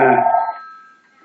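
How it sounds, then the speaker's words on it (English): A telephone rings once, a loud harmonic electronic-style trill that fades out over about a second, with no talk over it. "I got a telephone call here."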